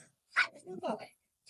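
Small dogs at a toy dog show in Pushkin, Russia, give a couple of quick, high, yappy barks close by, brief and fairly quiet, with speech heard around them.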